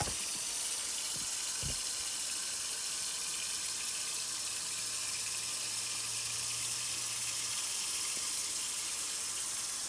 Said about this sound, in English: I'm just going to add enough water here to go ahead and cover these here.